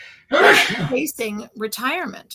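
One sharp, loud sneeze bursts out close by, followed by a person speaking.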